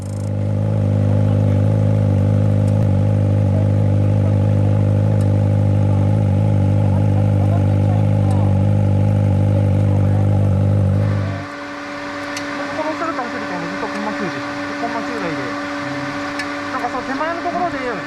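A Kawasaki ZX-25R with a turbocharged 120-horsepower engine runs at high speed, a loud, steady, high-revving engine drone that suddenly drops away near the end to a quieter, rushing background.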